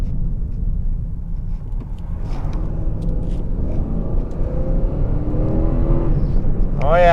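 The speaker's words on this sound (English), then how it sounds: "see if it'll do a front wheel drive burnout" Front-wheel-drive car attempting a burnout with a small spare tire fitted on the back, engine rumbling and droning steadily and close, rising in pitch toward the end with a squealing whine.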